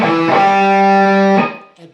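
An electric guitar, heavily distorted, plays a turnaround lick: a loud sustained chord rings for over a second, then cuts off, followed by a brief quieter note.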